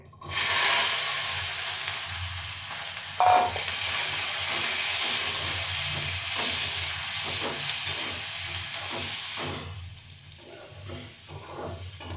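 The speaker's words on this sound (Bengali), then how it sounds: "ক্যাপসিকাম আর গাজরটা আছে, এটা আমি ভেজে নেব হালকা করে।" Capsicum and carrot fry lightly in a pan, a steady close sizzle and hiss running for several seconds with one brief clatter partway through, then easing quieter near the end.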